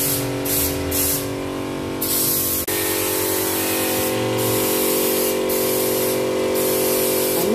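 Raptor coating sprayed onto a car bonnet with a spray gun, a loud, continuous close hiss with brief pulses where the trigger eases, plus a steady compressor drone underneath.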